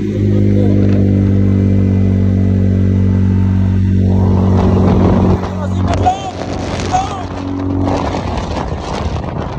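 A Chinese 500cc quad engine revs hard while climbing, a loud, steady, buzzing drone for about five seconds before it turns rougher and more uneven, with voices joining in.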